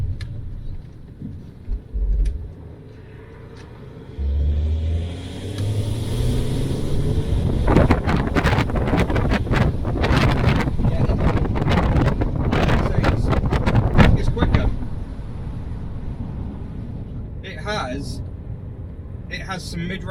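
A Citroën C6 diesel car accelerating downhill in a performance test, engine rumble building under heavy wind buffeting and rushing air noise, loud and close, with a few sharp knocks near the end.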